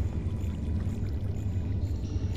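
Water flows inside a cave in the video game Minecraft as a steady, low pouring rush, constant and fairly quiet with no other sounds over it.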